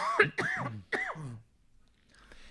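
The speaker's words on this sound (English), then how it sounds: "Sorry, I'm going to cough now." A few harsh coughs in quick succession, close and fairly loud, followed by near silence with faint background noise.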